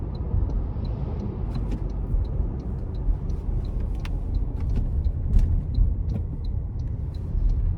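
A 2025 Toyota Tacoma SR pickup accelerates in manual mode, with a steady low engine and road rumble filling the cabin and a light, regular high tick sounding over it throughout.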